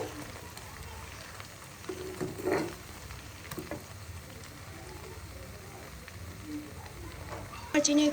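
Shrimp frying in hot oil in a home kitchen, a low continuous sizzle with occasional stirring and scraping bursts, steady throughout the clip at moderate volume.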